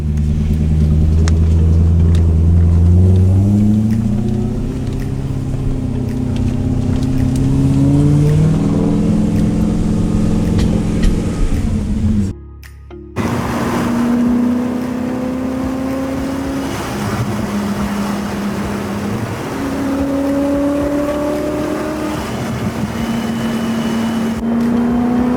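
A BMW E34 Touring with a swapped-in N54 engine drives and revs hard, its loud engine note climbing and dropping through repeated gear pulls, with a brief lift around the middle before it pulls again close by.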